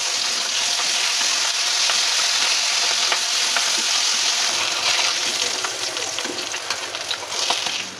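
Pabda fish rubbed with salt, turmeric and chili powder frying in mustard oil, a loud, continuous bubbling sizzle with scattered spits, close and without voices.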